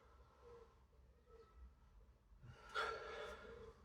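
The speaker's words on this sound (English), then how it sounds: "have a sniff, see what we get" Someone sniffs the aroma of a Lagunitas IPA beer, with soft breaths at first and then a sharper, louder sniff near the end, close to the microphone and with no speech.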